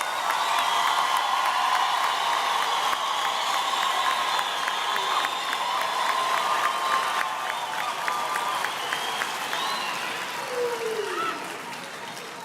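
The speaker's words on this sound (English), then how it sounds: "please give another roaring round of applause to all our graduates" Graduation ceremony crowd at UFS campus gives a long, roaring round of applause mixed with cheers and whoops for the graduates, steady throughout and fading slightly at the end.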